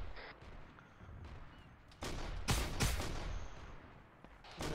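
Bursts of distant gunfire in a video game crackle and pop in scattered volleys, a couple of louder clusters in the middle, over a low rumbling background.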